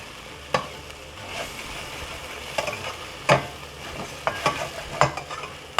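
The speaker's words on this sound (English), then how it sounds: "I'm going to let the ginger and garlic cook with the onions." Ginger and garlic fry with onions in a pan, giving a low steady sizzle broken by several sharp scrapes and clinks of stirring, heard up close with no voices.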